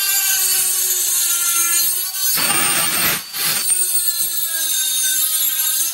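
A Milwaukee rotary tool with a carbide bit grinds into the hard-coated port of an Echo 7310 chainsaw cylinder, giving a steady high whine with a short harsher burst of cutting in the middle.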